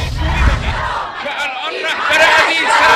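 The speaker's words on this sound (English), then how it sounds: "Many of them were chanting death to America, were chanting death to Israel." Large protest crowd in central Tehran chanting in unison, a loud, dense roar of many voices rising and falling in rhythmic bursts across the whole stretch.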